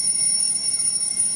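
Regular phone alarm tone ringing, a shrill high-pitched electronic beep held in steady bright tones for a brief moment, sharp and loud over faint background.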